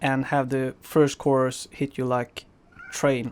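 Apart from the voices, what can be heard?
cat screaming in the background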